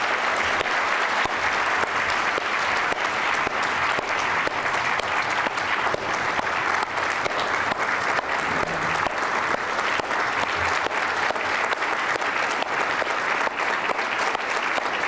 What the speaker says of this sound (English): would you join me in giving a round, long, warm applause to our excellent panelists?